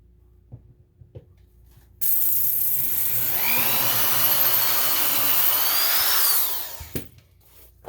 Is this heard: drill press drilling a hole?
yes